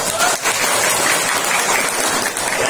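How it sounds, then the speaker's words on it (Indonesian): Applause for the poet LK Ara at a university arts corner opening, a dense, steady wash of hand clapping from an audience filling the room for a few seconds. "Tepuk tangan buat LK Ara."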